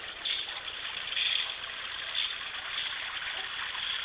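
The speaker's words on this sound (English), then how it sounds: "getting ready to fill up the tub" Water runs from a hose into a whirlpool tub in a steady, hissing rush with slight surges. It is close and continuous, with no voices.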